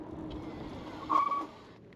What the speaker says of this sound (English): All right, let's do a brake test.